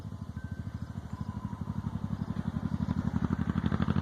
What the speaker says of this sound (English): There's a motorcycle.